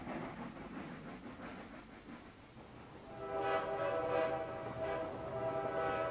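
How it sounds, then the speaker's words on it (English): An armored train rolls and rumbles, then a loud sustained horn or whistle blast swells in and holds to the end, with no voices. "the Boers ambushed trains,"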